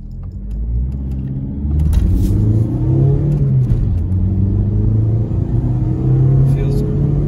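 A stage 1 tuned car pulls hard from a dead stop, its engine rising in pitch through several loud, close revving sweeps between gear changes, with someone talking over it.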